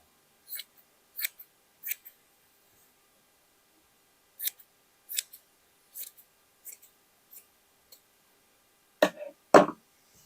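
Scissors snipping through fabric while cutting a piece for a plus-size summer dress: a series of short, crisp close-up cuts, spaced at uneven intervals with pauses between them, ending in a couple of louder, heavier snips.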